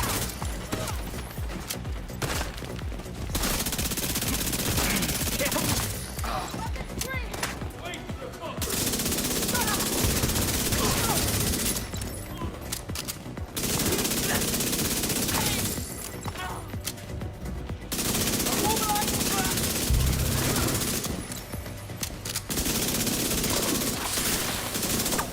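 Rifle gunfire in The Division 2 rings out in repeated bursts and sustained volleys across a long stretch, loud and dense with short pauses, while a player talks at points over the game sound.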